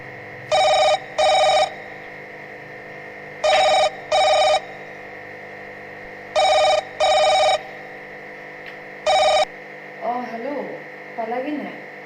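Ringback tones of an outgoing phone call pulse in double bursts, four sets evenly spaced over a steady electrical hum, close and clear, before a voice briefly starts talking near the end.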